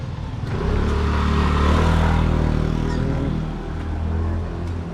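A Yamaha NMAX scooter runs steadily nearby, its mid-pitched engine drone holding loud and even with a slight rise and fall.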